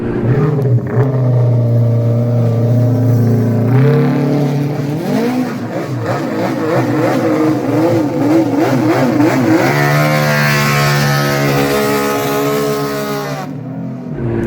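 Six-cylinder RC replica motorcycles rev hard in a crowded car park, their engines rising and falling through repeated loud blips and sustained high-rpm wails, close and continuous.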